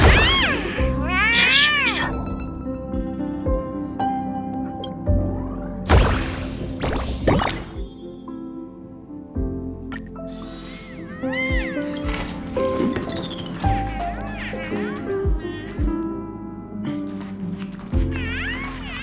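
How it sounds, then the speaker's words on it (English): Cat in the video game Honkai Star Rail meows repeatedly, with several close, clear meows and drawn-out caterwauling cries over game sounds. "There's another kitty."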